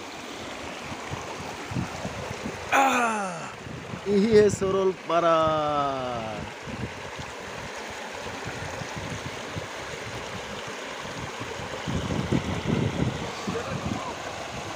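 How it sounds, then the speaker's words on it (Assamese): River water flows steadily at Saralpara in Kokrajhar, Assam, a continuous rushing wash with a breezy edge. Someone speaks briefly over it near the start. "কিমান ধুনীয়া পানীৰ চাউণ্ড হৈ আছে চাওক নদীৰে পানী বৈ অহা"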